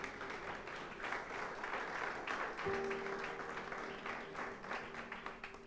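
A church congregation applauds at a worship service, a continuous wash of clapping that holds steady for several seconds at a moderate distance. A faint sustained tone sits underneath, and no voices rise above the clapping.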